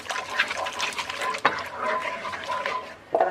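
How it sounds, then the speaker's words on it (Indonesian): Water poured into a blended mix of chili and garlic for a sauce, a steady liquid splashing and trickling sound with a brief clink midway and another near the end, close and fairly quiet. "Ini aku kasih airnya sesuai selera."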